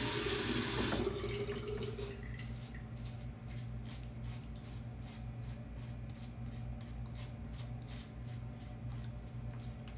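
Water runs from a tap to wet an Omega boar-bristle shaving brush: a loud gush for the first second, then a steady, softer stream that continues alone to the end.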